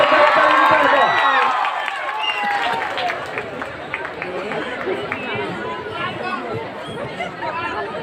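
A crowd at a college comedy show in Padia claps and cheers for a comedian, loudest at the start and then settling into a steady mix of chatter and clapping with voices throughout.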